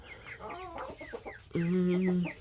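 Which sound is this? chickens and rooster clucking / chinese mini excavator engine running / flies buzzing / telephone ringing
chickens and rooster clucking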